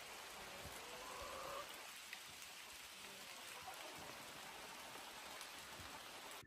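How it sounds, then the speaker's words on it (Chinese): Heavy rain falls in a dense, steady hiss with scattered drop patter, evenly sustained and fairly soft, with no voices. "下大雨"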